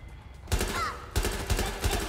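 Bursts of rapid gunfire in Watch Dogs: Legion, several loud clustered volleys of close shots cracking in quick succession, one after another.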